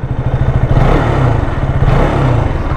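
A KTM RC 200 GP Edition motorcycle engine rumbles loud and close through its exhaust with pulsing, throbbing revs that swell and ease, and no talk.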